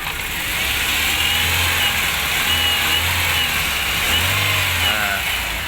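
A 1995 Toyota Great Corolla sedan with a 1.6 manual setup runs steadily, its engine note loud and close with a low continuous hum and slight rises in pitch, no voices over it.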